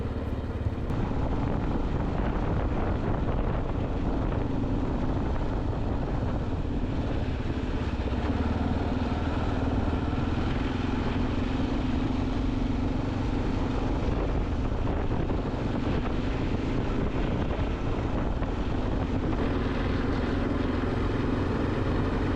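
A Kawasaki KLR650 motorcycle rides steadily along a dirt road with new boots on the rider, a continuous engine drone mixed with heavy wind rush on the microphone, with no break throughout.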